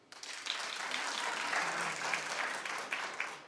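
A talk show studio audience breaks into steady applause, many hands clapping together for a few seconds at a fairly loud level.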